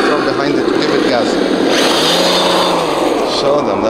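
Traxxas TRX6 Mercedes-Benz RC truck with an upgraded motor revs up on a trail, a whining rise and pitch sweep over background noise, with people talking nearby.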